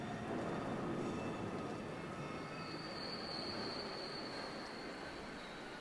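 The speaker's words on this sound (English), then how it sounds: "I think that's a train." A train rumbles past in the Rocket League video game, a dense steady roar of rail noise with a thin wheel squeal rising briefly midway, loud and continuous without talk.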